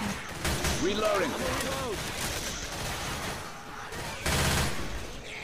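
Bursts of rapid gunfire crackle in Left 4 Dead 2, with a louder volley near the end, under game effects and background noise.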